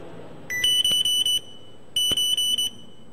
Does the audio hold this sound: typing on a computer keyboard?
no